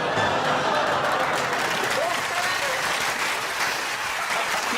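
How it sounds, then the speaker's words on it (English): Television panel show studio audience applauding steadily, loud and dense throughout, with a murmur of crowd voices and mixed groans blended underneath. "That's a classic mixture of groan and applause."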